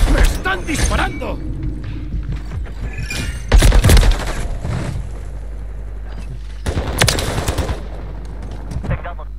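Bursts of automatic gunfire ring out in Call of Duty Modern Warfare III, loud rapid volleys in separate clusters, with a voice speaking Spanish over the game sounds.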